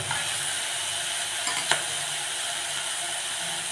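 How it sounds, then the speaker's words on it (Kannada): Grated coconut stirred into frying tomato masala for a country-style egg chicken curry, with a continuous close sizzle and a few scraping stirs and light clinks of the spoon against the pan. "ಒಂದು ಅರ್ಧ ಹೋಳಷ್ಟು ತೆಂಗಿನಕಾಯಿನ ತುರ್ತಿ ಎತ್ತಿಟ್ಕೊಂಡಿದ್ದೀನಿ ಅದನ್ನು ಸೇರಿಸ್ತಾ ಇದ್ದೀನಿ"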